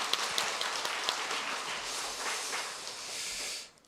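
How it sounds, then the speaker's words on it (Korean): Steady broadband wash of applause from a church congregation at a Friday prayer service, continuous and fairly loud from start to finish, then cutting off sharply near the end. "우리 하나님께 영광의 박수 올려드리겠습니다."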